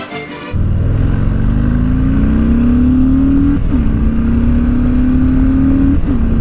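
A 2019 Harley-Davidson Heritage Classic 114 motorcycle pulls away and rides loudly up close, its engine tone rising steadily, dipping briefly at two gear shifts and climbing again each time.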